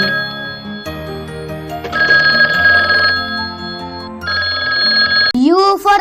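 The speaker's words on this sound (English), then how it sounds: "T for telephone." Bright electronic telephone ring in repeated tonal bursts set within a cheerful children's alphabet song, followed by a voice sliding through a sung phrase at the end.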